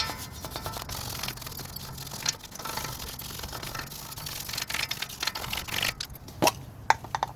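Steady, gritty scrubbing of a stiff steel wire brush against rusty metal on a Toyota Tacoma front brake, continuous and close, with scattered sharper scrapes and knocks toward the end.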